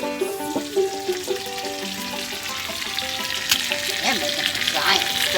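A giant steak sizzles and fries in a pan, a steady crackling hiss close by with no talk over it.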